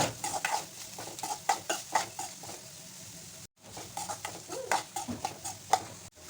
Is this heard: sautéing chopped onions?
yes